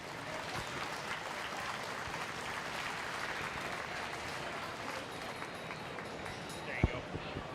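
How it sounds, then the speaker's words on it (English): Steady applause from a crowd at a 4-H market swine show fills the arena, even and sustained throughout, with murmured voices underneath and a brief sharp knock near the end. "Give those exhibitors a nice round of applause."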